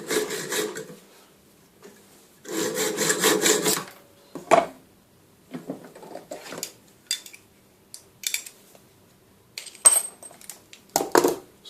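Small hacksaw cutting metal that is held in a grip, giving bursts of rasping strokes, first two longer runs, then shorter scattered scrapes and clicks, close and fairly quiet with pauses between.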